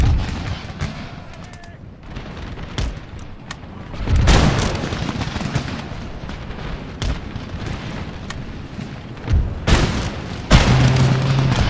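Musket volleys from fusilier infantry in an Empire: Total War battle set in winter 1720, heavy booming shots cracking repeatedly over a constant roar of battle, with loud bursts clustered near the middle and end and a voice occasionally talking.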